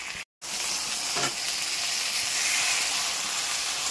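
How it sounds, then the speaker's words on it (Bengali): Ginger paste sautéing in a pan gives a steady, close sizzle with a faint hiss throughout, broken by a brief dropout near the start and a soft stir partway through. "আদা বাটাটা ভালো করে আমাকে কষে নিতে হবে, যতক্ষণ না লেগে যাচ্ছে না।"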